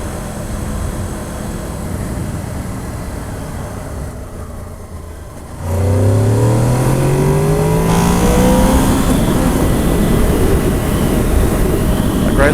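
A 2007 Honda VFR 800 motorcycle accelerates hard on an open road, its engine note climbing steadily through the revs. Steady wind rush sits under the whole pass, and the engine pulls loud and close.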